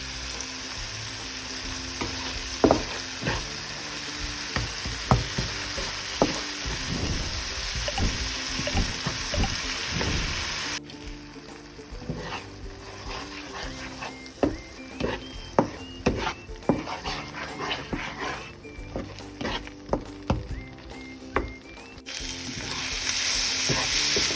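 Egg bhurji, Indian-style scrambled eggs, frying in a pan while being stirred, a loud close sizzle broken by scraping and clinking of the spatula against the pan, continuing throughout without speech.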